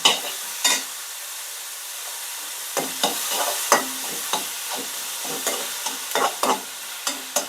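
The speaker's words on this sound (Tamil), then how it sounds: "இதில் உப்பு, அதுக்கப்புறமா மஞ்சப்பொடி சேர்த்து நல்லா வதக்கி விடுங்க." Tomatoes sauté in a pan with salt and turmeric, a soft steady sizzle broken by repeated scraping stirs of a spoon, close and clear, with no talking.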